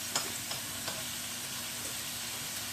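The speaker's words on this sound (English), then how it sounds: "we're going to just let this fry up" Bacon frying in a pan, a dense, steady crackling sizzle with a few faint ticks near the start, close and constant throughout with no voices.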